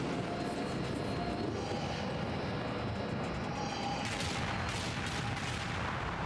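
Missile fire in the video game Gallerie, a dense continuous rumble with bursts of blasts crowding in toward the end, steady and loud throughout.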